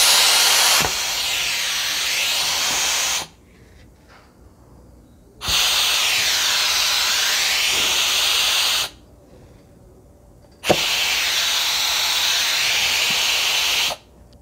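Three long bursts of steady, broadband hissing air from a vacuum generator (vacuum ejector) connected to a suction pad, each lasting a few seconds and separated by quiet gaps, loud and close.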